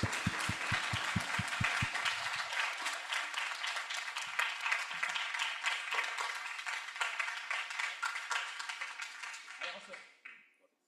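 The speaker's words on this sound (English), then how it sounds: "please join me in giving Moritz a round of applause" Audience applause closing a talk on music robots at MIT, steady dense clapping that fills most of the stretch before fading out at the end, preceded by a brief rhythmic tapping and with faint voices mixed in.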